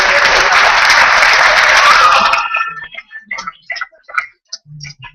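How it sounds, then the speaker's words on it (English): A crowd claps steadily for a couple of seconds, then the applause stops abruptly, leaving scattered faint clicks. "A big round of applause for these three individuals in particular."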